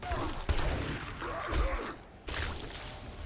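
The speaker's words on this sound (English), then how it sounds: "I'm shooting him with everything I got and he ain't dying." Bursts of gunfire in the video game 7 Days to Die, several sharp shots scattered over a few seconds amid hectic game noise, with a voice exclaiming between them.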